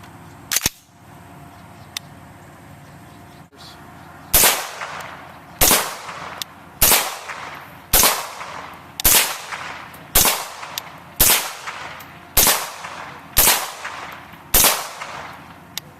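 A Huntertown Arms Kestrel AK rifle fires 7.62x39 rounds: one early shot, then about ten loud, close reports spaced roughly a second apart, each with a brief ringing decay outdoors.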